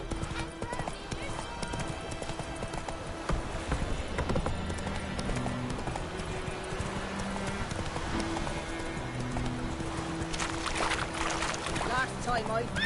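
A horse gallops in The Witcher 3 with rhythmic clip-clop hoofbeats running throughout, game music and effects beneath, and someone talking over it.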